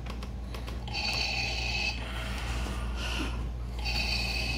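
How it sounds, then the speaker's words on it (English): Electronic Darth Vader breathing from a Hasbro Black Series helmet plays back in slow, repeated hissing inhale and exhale cycles, steady and fairly faint against a low hum, with no talking. "the trigger of the sounds is just your normal Vader breathing"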